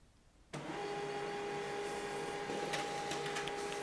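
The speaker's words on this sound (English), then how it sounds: "This printer prints quite quickly, and here we go." An HP LaserJet M140we laser printer runs a print job, its motor starting abruptly and settling into a steady mechanical whir with faint clicks and rustles near the end, close by with no talking.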